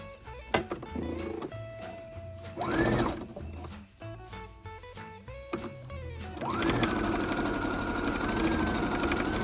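A sewing machine stitches quilted Christmas stocking fabric, its fast mechanical whir running in several bursts with short pauses between runs and a longer steady run at the end.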